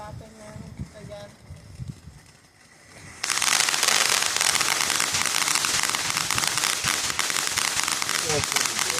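Fireworks going off outdoors, a sudden dense crackling barrage that starts partway through and continues loudly to the end, following quieter ambient noise with faint voices.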